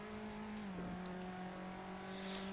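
Race car engine in the Assetto Corsa racing game holds a steady high drone that dips briefly in pitch as if shifting gear, then settles into a sustained revving hum; faint and continuous with no talking.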